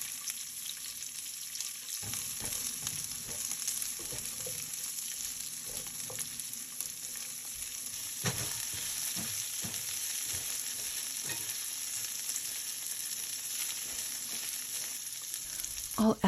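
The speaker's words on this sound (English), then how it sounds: "I'm going to add a little bit of oil to the pan and then add my peppers and" Peppers and onions fry in oil in a saucepan with a constant close sizzle, joined by occasional stirring knocks and scrapes from about two seconds on.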